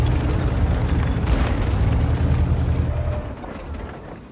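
Tank cannon fire and a heavy explosion in the World of Tanks video game, a loud continuous rumbling blast that fades after about three seconds.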